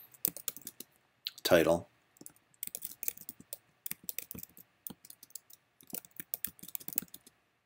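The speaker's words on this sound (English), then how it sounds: "I'm just going to type in the new" Keys click on a computer keyboard in short, uneven bursts of close, crisp taps, with a brief stretch of speech near the start.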